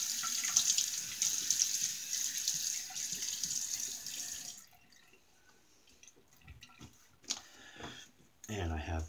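A bathroom tap runs steadily for face wetting before a shave, then cuts off, leaving drips, water splashing and handling noises close by.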